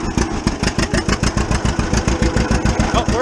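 A vehicle engine idles loud and close with a steady, even chugging pulse, just before the clutch goes in to drive off.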